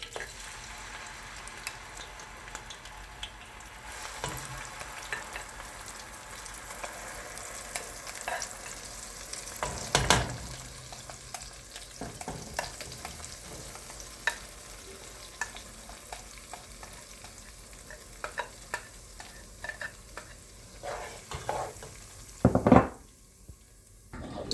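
Pepper cooking in a pot for egusi soup, a soft steady sizzle with occasional stirring scrapes and a few sharper clinks of utensil on pot near the end, no talking.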